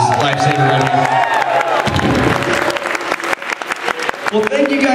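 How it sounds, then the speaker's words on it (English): A convention panel audience at MAGFest XI breaks into applause and cheering. Voiced whoops come first, then a dense wash of clapping that fades toward the end. "One more round of applause for this lifesaver right here."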